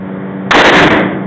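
A single sharp, loud gunshot from a .357 Magnum Smith & Wesson revolver cracks at close range on a shooting range, with a brief ringing tail.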